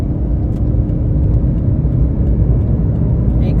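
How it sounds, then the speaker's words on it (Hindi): A car rolling along a highway gives a steady, close rumble and whir of engine and road noise, with no talk. "मैं गाड़ी चला रही हूँ"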